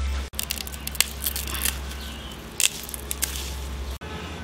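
Pork stomach being washed by hand, with wet squishing, squelching and splashing under running water, irregular and close, bounded by brief cuts at start and end, with no talking.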